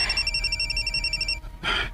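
A cellphone rings with a steady electronic tone for over a second, then a brief burst of noise follows, heard fairly close against a faint background hum.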